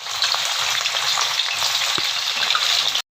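Beef pieces fry in hot oil for a homemade beef roast, giving a loud, steady sizzle with a faint crackle throughout, then cutting off abruptly near the end; no one speaks.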